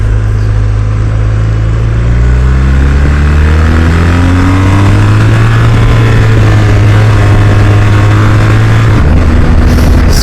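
BMW R 1250 RS motorcycle engine pulling at low revs, loud and close, with a steady low drone that climbs in pitch through the run. Near the end it drops abruptly as the quickshifter kicks the bike into second gear.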